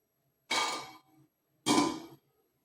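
A lid set onto a pot of simmering paneer butter masala gravy gives two short, close clattering knocks about a second apart, with near silence between them.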